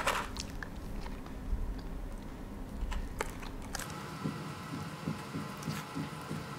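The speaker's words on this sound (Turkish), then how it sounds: "Ben bir sakız çiğnesem iyi olacak." Gum chewed close up with soft, wet biting and chomping sounds repeating in an irregular rhythm over a low background hum, no talk.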